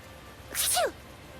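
One short, sharp sneeze up close from a Seraphim character in the video game Tales of Zestiria, a quick breathy burst that ends in a rising squeak.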